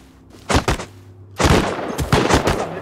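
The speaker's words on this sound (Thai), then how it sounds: "มันยิงฝั่งนู้นแล้วผม" Gunfire in Rust: a quick pair of sharp shots, a pause, then a sustained burst of rapid, loud cracks close by.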